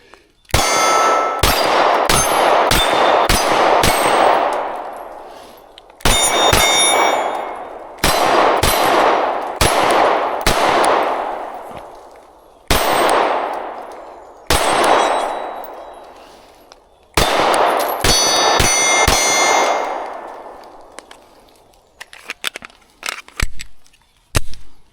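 Rapid bursts of MC9 Prime pistol shots ring off a steel target in several quick strings, each crack followed by a bright metallic clang, with short pauses between groups.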